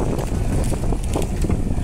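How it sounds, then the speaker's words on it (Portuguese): A motorboat running off Fernando de Noronha gives a steady, loud engine roar mixed with rushing wind and water noise, continuous and close throughout. "o roncado da lancha é bonito aí"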